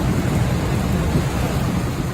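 Torrential rain pours near the Guadalupe River during a thunderstorm, a dense continuous roar of heavy rainfall with deep rumbling thunder underneath.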